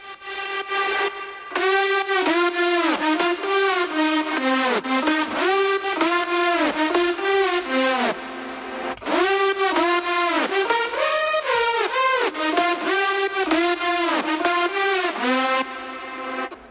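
A synth main lead from an EDM drop for a remake of a song plays a loud, bright, buzzy melody with pitch-bending swoops, repeating in phrases with short gaps between them and no talking.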